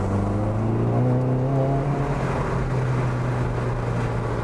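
A tuned 1.9 TDI turbo diesel car at full throttle, a loud, close engine roar with rising harmonic tones as revs climb steadily, no speech.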